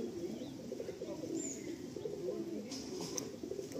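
A pigeon in a loft coos softly in a low, rolling murmur, fairly faint against a quiet background, with a brief higher chirp partway through.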